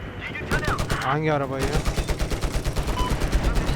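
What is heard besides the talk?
gunfire spraying a car in video game Battlefield 4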